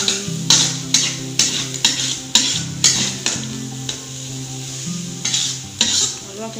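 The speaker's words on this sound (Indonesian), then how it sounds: "Aduk terus ya guys," Sago noodles with meatballs and tomato stir-fried in a hot pan, a spatula scraping and tapping in a steady rhythm over a continuous loud sizzle.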